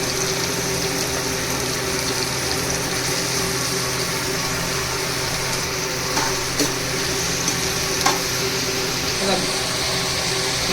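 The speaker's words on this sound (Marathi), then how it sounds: "कांदा फ्राय करून घेतो आपण." Onion frying in a pan for a chicken liver masala fry gives a loud, steady hiss throughout, with a few faint clinks near the end.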